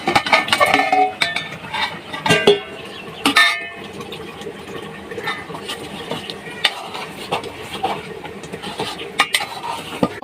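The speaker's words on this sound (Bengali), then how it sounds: "মশলাটা আমার ভালোভাবে কষিয়ে নিয়েছি, মশলা থেকে তেল ছেড়ে দিয়েছে। এখানে এবার আমি আলুগুলো দিয়ে দেবো।" Potatoes go into a pan of oil-released fried masala, with a few sharp metallic clinks and scrapes of a spoon against the pan, then quieter stirring and faint sizzling.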